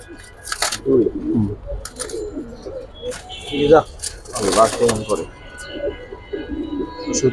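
Giribaz and racer pigeons coo in soft, repeated low phrases close by, mixed with brief rustles and occasional flutters, while people talk nearby.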